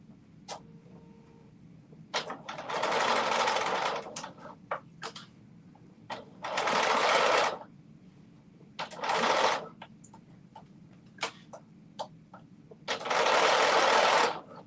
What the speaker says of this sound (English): let's sew these other straps on